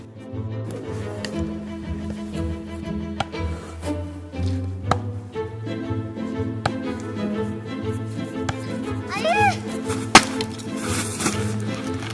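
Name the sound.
chopping logs with an axe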